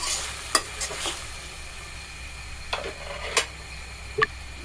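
Ginger-garlic paste is stirred in a frying pan, with a spatula scraping and knocking against the metal in a few sharp, uneven strokes over a low, steady sizzle.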